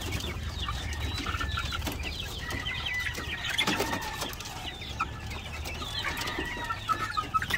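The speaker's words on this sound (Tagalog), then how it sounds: "Meron pa lang isang rooster dito mga ka-farmers na nasama" Hungry chicks and a rooster cluck and peep continuously around a feeder on a farm after a change of feed, a busy close flock chatter with occasional louder calls and no talk.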